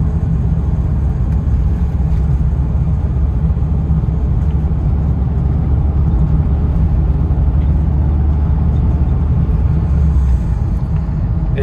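Steady low engine drone and road rumble inside a 1971 VW Type 3 while driving, continuous and fairly loud throughout with no clearly separate downshift events.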